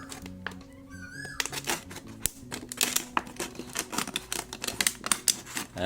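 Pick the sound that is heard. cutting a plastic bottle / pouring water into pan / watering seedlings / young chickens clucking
cutting a plastic bottle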